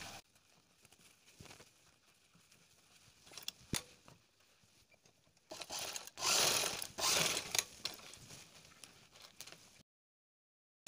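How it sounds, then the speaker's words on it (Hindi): A sewing machine stitches the open edge of a bra shut: faint clicks first, then a loud rapid whirring run of stitches lasting a few seconds, a pause, another burst, then silence. "ये जो मुंह इसका खुला हुआ है तो इसे हमें सिलाई से बंद कर देना है"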